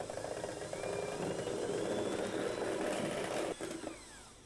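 Electric mixer beating egg whites for sponge cupcakes, a continuous whirring motor hum that stays steady, then dips and fades near the end.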